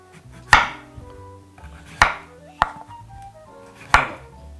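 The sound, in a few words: chopping vegetables into cubes with a knife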